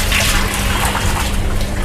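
Steady rush of water pouring from a hand wash tap indoors, loud and continuous without pause, with no talking.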